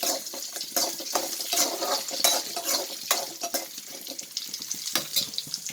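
Coconut, dried chillies, tomato, onion and spices fry in oil for a stingray fish theeyal, a busy crackling sizzle with frequent stirring scrapes and clinks, steady and close with no talking.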